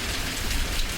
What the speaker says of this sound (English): some of that can fall in sheets of rain